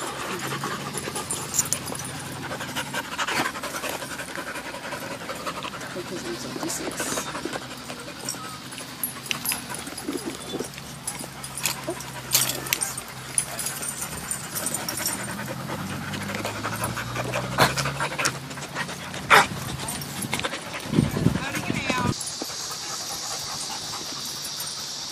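Several German Shepherd dogs pant steadily and close by for the whole stretch, a continuous rapid breathing with an occasional faint whimper.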